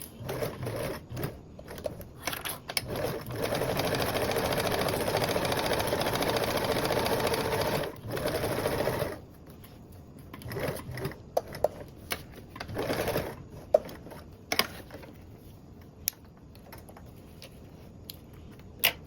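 A sewing machine bastes around the perimeter of a circle bag, running in long steady stitching stretches and then short stop-start bursts, close up with no talk.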